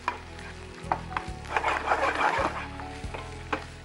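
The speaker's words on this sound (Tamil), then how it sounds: "இது வேகிற வரையில் அந்த சிக்கனையும் நம்ம கிண்டிக்கிட்டே இருக்கணும்." Chicken pieces stirred and fried in a pan on a home cooking show, with a steady sizzle and scraping stir strokes rising and falling at moderate volume, no voices present.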